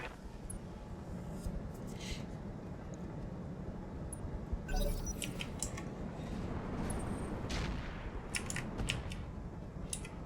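Battle armor mortar fire from a mech combat game, a steady barrage of dull thuds and crackling blasts layered under constant battlefield rumble, with a sharper impact burst near the middle.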